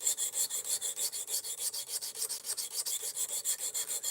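An Ozark Trail axis lock knife blade is drawn over a sharpening stone in quick, even strokes, about five per second. The scraping is close and moderately quiet, with no talk.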